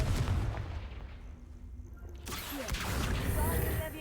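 The Confringo blasting spell goes off in the video game Hogwarts Legacy as a sudden boom with a broad, rushing blast that lingers over a low rumbling bed of game noise.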